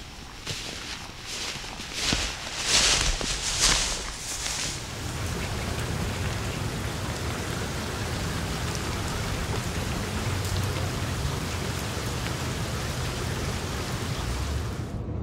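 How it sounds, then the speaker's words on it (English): Rain falling in the woods on a remote Pennsylvania trail, a dense steady patter and hiss that fills the whole stretch, loud and close, with a few brief rustles or footsteps near the start and no talking. "Problem was, the end of the second scout was rain."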